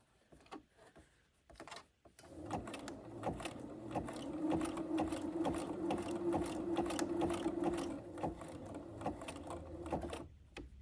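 Sewing machine runs a zig zag stitch in a steady, rapid mechanical rhythm for several seconds, close and moderately loud, with brief starts and stops around it.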